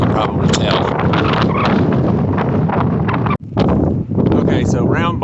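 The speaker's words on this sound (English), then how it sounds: "Very windy as you can probably tell." Strong wind on Jane Bald, a mountain bald on the Appalachian Trail, buffets the microphone in a loud, continuous roar that cuts out for a brief instant before surging back.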